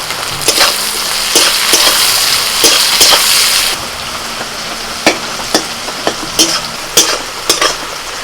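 Onions with salt and green chilies sizzle in a pan for a country rooster curry. A steady frying hiss runs under repeated scraping knocks of a spatula stirring, and the hiss quietens partway through.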